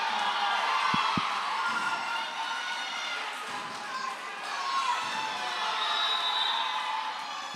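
A crowd at the 2024 STIHL Timbersports Canadian Rookie Championship cheers on an axe chopper working through a tough block. Continuous shouts and whoops hold steady throughout, with an announcer talking over them.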